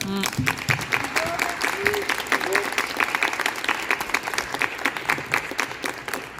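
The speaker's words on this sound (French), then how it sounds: "J'aimerais vraiment qu'on prenne le temps de remercier nos panélistes. Ça vaut une main d'applaudissement." An audience at a community health forum applauds the panelists, a crowd of hands clapping in a dense, sustained wave while a voice speaks over the top.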